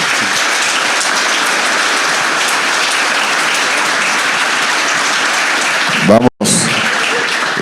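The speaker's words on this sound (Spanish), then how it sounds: "Un aplauso." A large audience at a talk with Juan Martín del Potro breaks into loud, dense applause that holds steady for about six seconds, cuts off abruptly, then resumes briefly.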